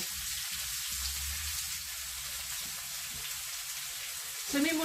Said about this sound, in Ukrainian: І обсмажуємо, поки цибулька зменшиться в об'ємі і стане прозорою.